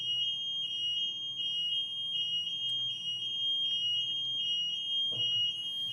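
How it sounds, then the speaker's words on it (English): A building alarm system sounds continuously, a loud, piercing electronic tone pulsing in a fast steady rhythm with faint background noise and a brief knock near the end. "find out what's going on with the alarm system"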